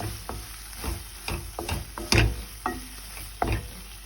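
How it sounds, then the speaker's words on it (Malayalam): Clam meat being stirred as it cooks in a pan, giving irregular scraping strokes of a spoon over a soft sizzle, close by and without speech. "നന്നായിട്ട് ഇളക്കി കൊടുക്കുക."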